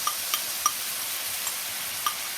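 Steady broadband sizzle of chicken frying in a hot pan as sauce is poured over, with a few sharp pops and crackles scattered through; no voices.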